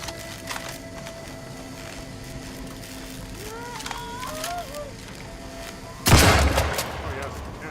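Gunfire in The Outer Worlds 2 video game: a single loud, sharp blast bursts near the end after quieter in-game ambience with faint chirping tones, then trails off with a short rumbling decay.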